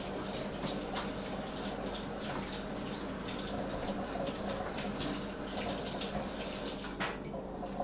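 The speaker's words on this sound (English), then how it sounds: "I'm sorry, you guys, but I got to wash my hands." Water runs steadily from a tap as hands are washed in a kitchen sink, a faint, even hiss with small splashes, with no talking over it.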